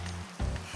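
Minecraft rain on the SocksMod SMP server, a brief steady hiss of falling drops at a constant level with no voices.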